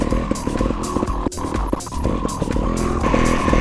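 Trial motorcycle engine revving hard through a long wheelie ridden in fifth gear, a loud, close, sustained roar with pitch shifts and a brief dip near the middle, no talk.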